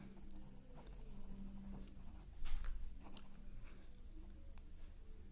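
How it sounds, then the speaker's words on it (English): Pen writing on paper while working a physics numerical: faint, close scratching and scribbling strokes, with a brief louder stroke midway, against a low background hum. "We first write the given things."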